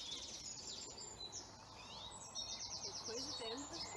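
A song thrush sings at dawn in spring, repeating a short whistled phrase over and over amid a chorus of other birds, fairly distant and soft, with a person talking quietly partway through.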